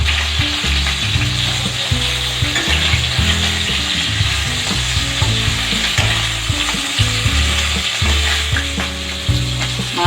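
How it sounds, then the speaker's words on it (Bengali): Frying fish head in hot oil crackles and sizzles steadily nearby, broken by frequent spatula stirring and scraping in the pan, with no voices. "মাছের মাথা ভাজা হতে আমার 5 মিনিট সময় লেগেছে"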